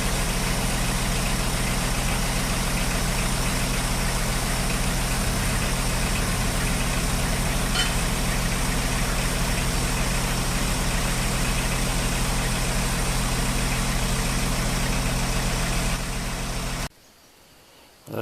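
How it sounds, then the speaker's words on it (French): A generator runs steadily at a newly dug well in the woods, a constant close mechanical drone at even loudness that cuts off abruptly near the end. "elle fonctionne avec le groupe électrogène."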